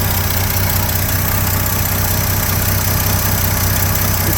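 The engine of a 1972 Chevy C10 pickup truck idles steadily and loudly up close, with a constant low rumble and no talking.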